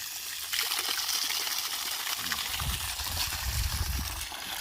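A DC 12V 120W pump pushes water through a one-inch hose in a continuous, strong rushing gush that runs steadily throughout, with lower splashing surging in the second half.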